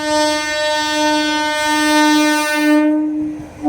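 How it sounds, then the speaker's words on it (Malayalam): A passenger train sounds a long, loud, steady horn as it passes a railway crossing, and the tone cuts off abruptly near the end. "ഒരു പാസഞ്ചർ വണ്ടി കടന്നുപോകുന്നു."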